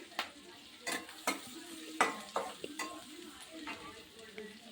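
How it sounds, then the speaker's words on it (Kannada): Mustard seeds, cumin, curry leaves and crushed garlic sizzling in oil and butter in a kadai, a soft steady fry broken by several sharp stirring scrapes of a spoon against the pan. "ಅದಕ್ಕೆ ಸಾಸಿವೆ ಜೀರಿಗೆ ಕರಿಬೇವು ಹಾಗೆ ಜಜ್ಜಿ ಇಟ್ಕೊಂಡಿರೋ ಎರಡು ಬೆಳ್ಳುಳ್ಳಿ ಕೂಡ ಹಾಕ್ತಾಯಿದ್ದೀನಿ ಇದು ಚೆನ್ನಾಗಿ ಸ್ವಲ್ಪ ಫ್ರೈ ಆಗಲಿ"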